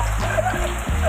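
The season's first rain patters on surfaces around a home yard with a pomegranate tree, a soft steady hiss under a low droning hum and brief vocal sounds.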